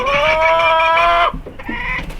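Chickens on a farm cluck and squawk close by, a loud drawn-out call followed by a few shorter, softer clucks.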